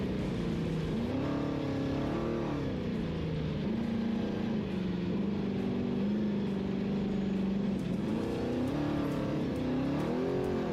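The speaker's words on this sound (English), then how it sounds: "Listen to the RPMs pick up. Let them scream a little bit." A trophy truck engine roars continuously during the NORRA Baja race from Ensenada to San Felipe, its pitch climbing and dipping as revs rise and fall, loud and close with heavy wind and road rumble.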